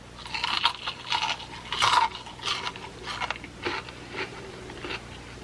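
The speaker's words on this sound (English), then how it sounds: "I chew with my mouth open so you could hear the crunch" Close-up crunchy chewing of KFC fried chicken, with crisp crackling bites repeating irregularly for several seconds and no talking.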